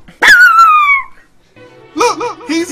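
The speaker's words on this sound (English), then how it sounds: "Someone come get this dog!" A small dog gives a high, drawn-out whimpering yelp, then after a short pause a run of quick, close, loud yips and barks.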